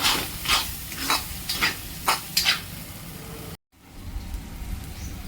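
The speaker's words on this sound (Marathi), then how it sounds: "वाटण खाली लागू नये म्हणून सारखं हळूहळू ढवळत राहायचं" A spatula stirs thick onion masala paste in a pan for an onion karode bhaji, giving a run of scraping, rustling bursts over a soft sizzle, then a brief drop to silence before the sizzling resumes.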